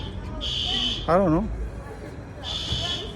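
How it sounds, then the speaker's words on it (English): Alarm buzzer sounding during a day trip around Teotihuacan and Guadalupe near Mexico City, two loud high steady bursts separated by a gap, with a person speaking briefly between them. "And now there's some alarm."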